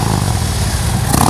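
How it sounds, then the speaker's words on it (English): A 2012 Harley-Davidson Road Glide Ultra with Vance and Hines pipes, a stage one upgrade and an opened-up breather revs loudly and close, a deep, throaty, rumbling engine roar sustained through the brief burst. "Those Vance and Hines pipes give it a really nice sound."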